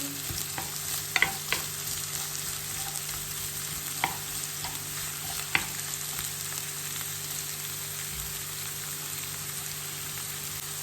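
Onions sizzle in a frying pan with a steady, even crackle close by, interrupted now and then by faint clicks of stirring.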